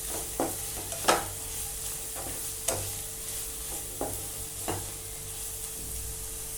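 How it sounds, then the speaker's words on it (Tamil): Vegetables frying in a pan with garam masala and red chilli flakes as a spoon stirs the mix, giving sharp scraping clicks at irregular intervals over a steady low sizzle. "எல்லாம் சேர்த்து நல்லா மிக்ஸ் பண்ணி விடுங்க."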